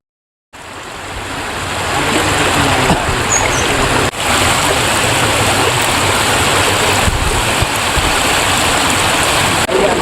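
A flooding stream rushes over a main road in Rangareddy district, a loud, continuous broadband roar of churning water that begins after a brief silence and holds steady throughout.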